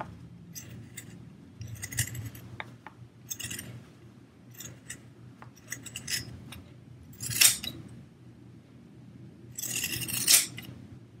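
Scissors trimming fabric and stabilizer for a homemade face mask, heard as a series of crisp snips and metallic clicks spread over several seconds, with bursts of brighter cutting sounds near the end.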